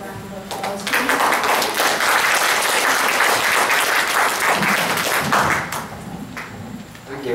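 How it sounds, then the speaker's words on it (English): An audience at a lecture event breaks into applause, a dense wash of clapping that swells after a second, holds steady for several seconds, then thins out near the end. "So let's give him a round of applause"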